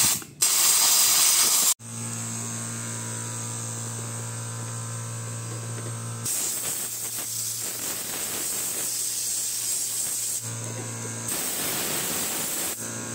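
Compressed air blasting onto the radiator fan motor of a Ford Fiesta MK7, loud hissing bursts starting and stopping over a constant electrical hum, close up with no talk.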